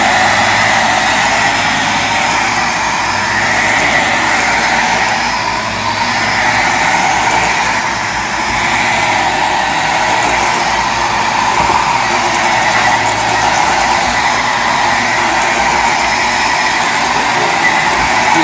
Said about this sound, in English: Just a vacuum by the plant.